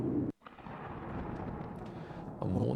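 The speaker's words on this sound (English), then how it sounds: "I hear the storm already." A thunderstorm in the RPG Maker video game Night Spasm, a low steady rumbling roar with a brief dropout, swelling louder again near the end.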